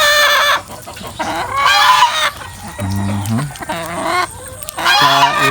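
Several chickens cluck and squawk up close while eating papaya, with overlapping calls and a few rising crow-like cries in rapid bursts.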